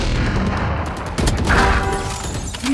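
Missile explosions in the Valorant video game, a dense, loud barrage of booms and blasts rolling continuously with rapid impacts layered on top and no speech.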